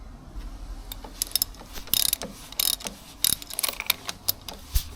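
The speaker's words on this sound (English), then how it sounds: "Alright, so we managed to get the bolt loose. It's coming undone now." A torqued nut on a Mini Clubman GT flange comes loose in a close burst of ratcheting clicks and metallic clatter, sharp irregular bursts with short pauses, no voices.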